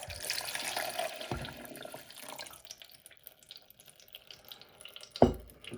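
Water is poured into a Brita filter pitcher: a steady, splashy pour for a couple of seconds that thins to a quieter trickle, then one sharp knock near the end.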